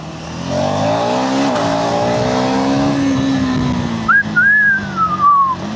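A KTM Adventure 390 X motorcycle slowing on engine braking alone, its engine note drawn out and falling steadily in pitch with wind rush, and a whistling whine rising then sliding down near the end, loud and close.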